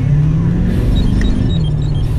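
A diesel truck accelerates as its tires spin, giving a loud, close, continuous low rumble from the engine and the road, with no clear change in pitch over the short burst.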